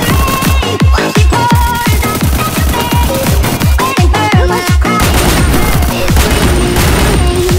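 Rapid bursts of UMP submachine gun fire in a mobile battle royale video game, loud and close, with sharp repeated shots in quick clusters and a dense game soundtrack underneath.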